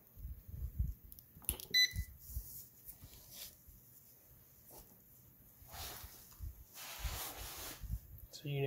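A Xantrex HFS2055 inverter charger under repair gives a couple of short, high electronic beeps close by, mixed with a man's speech and scattered handling clicks and rustles.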